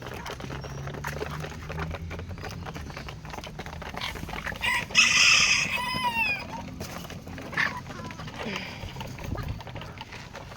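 Chickens cluck close by, with a lively burst of clucking and chirping mid-clip over faint background noise and scattered patter.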